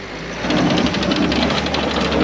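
A Land Rover Freelander 2 with a broken drive shaft revs hard, its engine holding a loud, rough, sustained roar after a brief rise.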